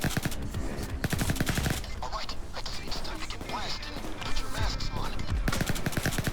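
Enemy gunfire in a PAYDAY 2 Panic Room heist crackles in dense, rapid bursts of shots, a pause, then renewed volleys, fairly loud and close amid clattering mechanical noise.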